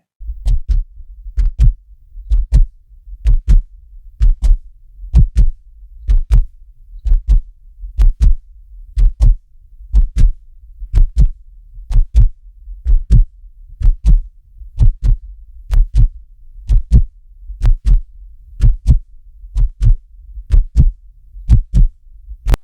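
A heartbeat sound effect thumps in a steady, loud double-beat rhythm, lub-dub pairs repeating about every second, alone with no voices.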